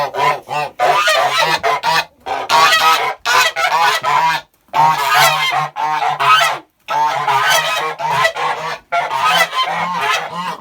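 Loud, repeated honking from a group of Kholmogory geese, coming in bursts with short pauses, close by and continuing throughout.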